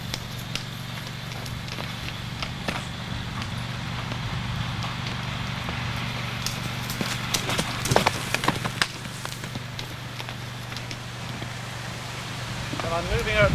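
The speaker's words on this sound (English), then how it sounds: "When I'm moving her at the canter, I'm looking to synchronise my footfall with hers." A horse cantering on ground during groundwork, with a soft repeated hoof rhythm running under a steady background hum and faint noise throughout.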